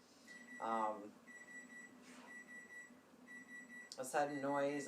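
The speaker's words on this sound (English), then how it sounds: "We got a buzzer going off here in the middle." A steady electronic buzzer beeps at regular intervals while a person talks over it.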